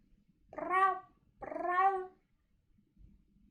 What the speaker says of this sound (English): I have a cat who's crying out